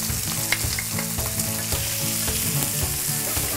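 Shrimp with chopped ginger and garlic sizzling hard in a hot stir-fry pan, a steady loud frying hiss with faint clicks and stirring knocks throughout, no voices.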